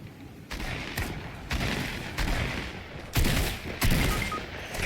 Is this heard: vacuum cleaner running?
no